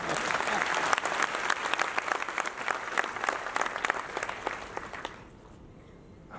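Many hands clap at an education awards ceremony in Ambala, a full crowd's applause that runs steadily for about five seconds, then dies away quickly into a quiet room.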